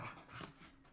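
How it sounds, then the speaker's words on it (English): Pet dogs giving a short, quiet growl and panting breath, heard close and alone for under a second. "My dogs think they're so tough."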